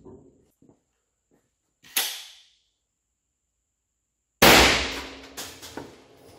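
A Taurus pump-action shotgun fires a 28 g slug into a thick, dense 8 cm wooden beam backed by steel sheet: one sharp, loud blast with a ringing decay, preceded by an earlier, shorter crack and quiet handling noises.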